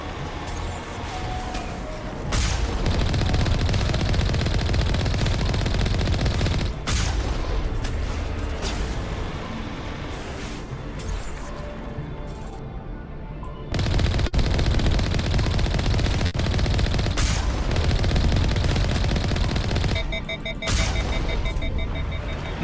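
Sustained automatic gunfire from the player's weapon in the video game Mass Effect, loud and continuous in long bursts with brief gaps, layered with game effects and impacts.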